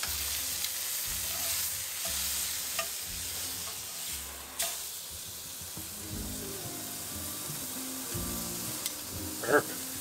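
Meat frying in oil in a pan, a steady low sizzle with occasional scraping, clinks and stirring noises, fairly quiet with no talk.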